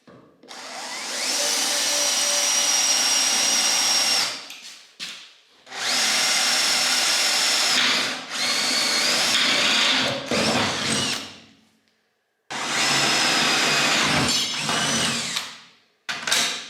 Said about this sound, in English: we're gonna go ahead and drill these holes 1/4 inch